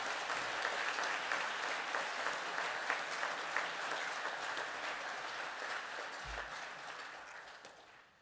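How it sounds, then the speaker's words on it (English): Sustained applause from a seated audience at a graduation ceremony as the graduating class stands, a dense steady patter of many hands that carries on for several seconds before beginning to fade. "Can I ask the class now to stand, please, for a round of applause?"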